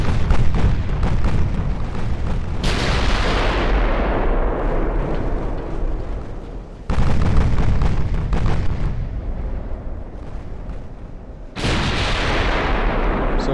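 Torpedo hits in the naval battle game Ultimate Admiral: Dreadnoughts: three heavy, loud explosions strike one after another, each with a sharp onset followed by a long rumbling decay that fades before the next blast.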